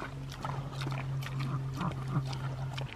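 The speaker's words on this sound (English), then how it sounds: "There's nothing as cool as the sound of a pig eating." Pigs on a farm eat noisily near the microphone, chewing open-mouthed in a steady run of wet munching and smacking over about three seconds, with a low continuous hum underneath.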